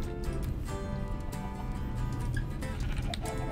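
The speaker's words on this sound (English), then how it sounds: "I see one more sheep." Cartoon sheep bleat in the Mother Goose Club game, set against a busy, constant game soundtrack, with a few brief higher calls rising above the music over several seconds.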